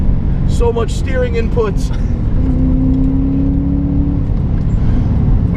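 A modified BMW E34 540i V8 drones steadily from inside the cabin while driving, a loud low engine rumble with a rising tone, as someone speaks briefly over it.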